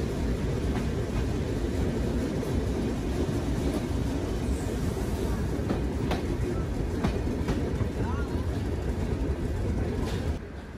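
The Benapole Express rolls on after leaving Rajbari station, a continuous rumble of wheels and carriages with faint clicks and creaks, heard steadily from on board.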